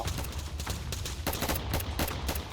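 Rapid bursts of gunfire in a Roblox shooting game, sharp repeated cracks over a steady low rumble, fairly distant and continuous throughout.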